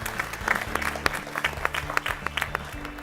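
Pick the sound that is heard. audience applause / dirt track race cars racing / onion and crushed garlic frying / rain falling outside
audience applause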